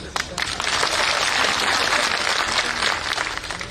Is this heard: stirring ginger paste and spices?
no